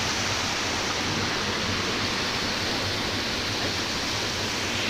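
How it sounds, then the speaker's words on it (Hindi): Hussainabad waterfall near Skardu, Baltistan: a constant broadband rush of falling water, even and unbroken, heard alone at moderate loudness throughout. "This is Hussainabad waterfall."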